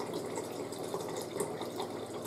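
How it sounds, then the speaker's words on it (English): Water runs steadily from the dispenser of a refrigerator fitted with a new Frigidaire Pure Source Ultra filter, a constant moderate splashing and trickling stream heard close up without any talking. "The water is coming out really clear now."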